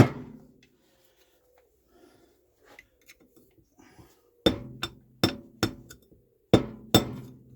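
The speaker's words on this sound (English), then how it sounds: "I think I might need a little hammer just to give that a little tap" Several sharp metallic taps from a small hammer on a Lucas magneto ring out, first a few faint light knocks, then six louder strikes in an uneven rhythm, each with a brief clinking ring.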